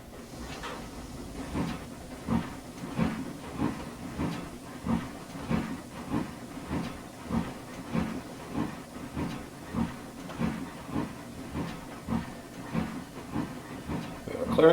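A Class L1 2-8-0 steam locomotive built in 1886, number 402, runs in the Trainz simulation of the 1902 C&KR at Nelson, giving a steady series of evenly spaced exhaust chuffs with hissing steam in between.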